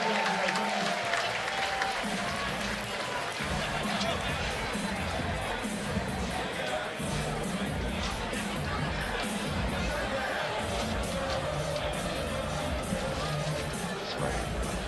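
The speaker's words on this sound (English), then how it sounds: "Let's hear a big round of applause for both these warriors." A large crowd at a combat sports event applauding steadily, with cheering and a loud babble of voices throughout, sustained and fairly loud.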